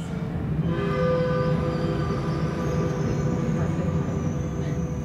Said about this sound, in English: Listen to the train whistle.